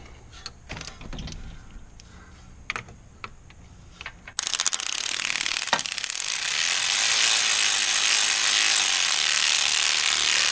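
A ratchet wrench clicks as it tightens a bolt on a Land Rover LR4 AC compressor, first in scattered clicks, then in a fast, continuous loud ratcheting run.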